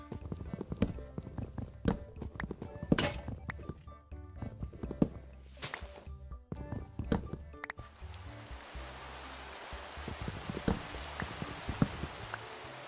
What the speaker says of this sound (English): Oh, got some rain, lovely.